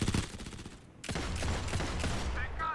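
Rapid gunfire in the shooter game Modern Combat 5 rattles in dense bursts, with a brief lull midway before the shots resume, ending in a couple of electronic tones.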